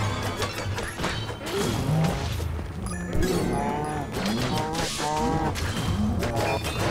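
Several cows moo in Minecraft Dungeons, with drawn-out calls rising and falling one after another over busy game music, punctuated by hits and crashes from combat.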